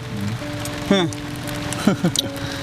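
Rain falls steadily as a soft, constant patter, with voices heard over it.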